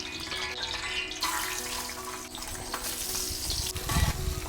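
Coconut pieces fry in hot coconut oil, a steady sizzling crackle that swells and fades with occasional stirring in a home kitchen while chicken is cooked.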